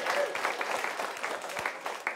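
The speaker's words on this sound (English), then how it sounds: "A big round of applause for yourselves tonight." Studio audience claps for itself at a live taping of the panel talk show Back Benches, a dense, steady burst of many hands with a few sharper individual claps standing out, filling the short stretch without any voices.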